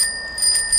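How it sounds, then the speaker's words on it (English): A bell on a trike gives a short, bright ring whose sustained metallic tone lingers close by. "Let's give a little ring of the bell."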